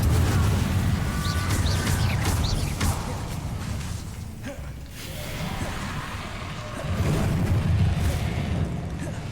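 Repeated Incendio fire spells in Hogwarts Legacy hit enemies with booming, whooshing bursts of flame over a rumbling combat background, one surge early, a dip in the middle, then another loud burst toward the end.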